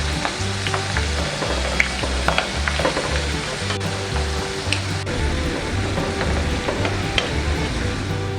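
Potato slices frying in a pan, turning golden brown, with a steady loud sizzle and crackle of oil throughout and small pops scattered over it, and no talking.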